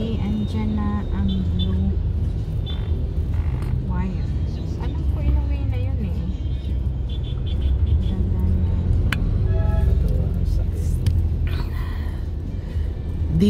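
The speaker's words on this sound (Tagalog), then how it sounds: "this is the Manila traffic." Moving Manila road traffic heard from inside a car: a steady low engine and road rumble, with occasional horn toots from nearby vehicles and people talking in the cabin.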